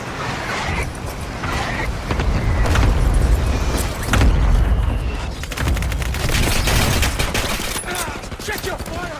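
Gunfire in a mobile shooter game played on a RedMagic 10 Pro phone: loud, continuous overlapping bursts and rumbling booms that fill the whole stretch, with muffled game voices mixed in.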